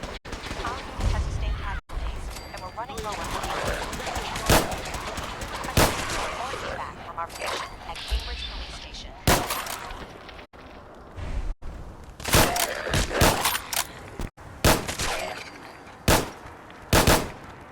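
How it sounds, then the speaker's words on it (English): Gunfire in the Fallout 4 video game: sharp shots cracking singly and in quick bursts, some spaced out and some in rapid clusters, with background game sounds and voices between them. "How did the first shot hit and the second shot miss?"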